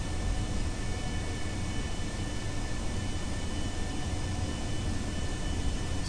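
Aircraft engine in Kerbal Space Program throttling up during a takeoff roll, a steady, dense roar that holds at an even loudness throughout with no pauses or talking.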